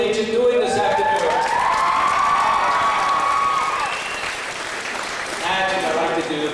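A school audience at Carberry Collegiate cheers and applauds in a big, loud, sustained roar of shouting and clapping that fills the hall, with whoops rising above it.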